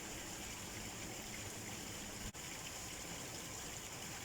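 Water pouring over the weir of a koi pond fed by a 20,000 litre an hour pump turned down to about 60% flow, a steady, loud rushing gush with a brief dropout partway through.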